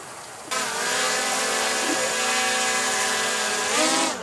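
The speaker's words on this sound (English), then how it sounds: "learning to fly a drone for the very first time" A small drone starts up abruptly and keeps a loud, steady high-pitched buzz with layered whining harmonics, swelling briefly near the end as it flies close by.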